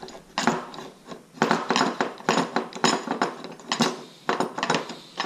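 Bracket being bolted on during a 6.7 Cummins dual CP3 pump install, a quick series of clicky ratchet and metallic mechanism sounds in uneven bursts, close and fairly loud.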